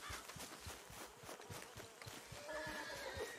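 A horse in Red Dead Redemption 2 gives a whinny over rhythmic hoof clip-clops, fairly quiet and close, with no talk.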